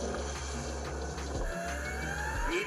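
A Ford 4.6-liter 3-valve V8 with a Whipple supercharger revving hard against its rev limiter, a loud, close, sustained roar with rapid pulsing cut-outs and a rising whine.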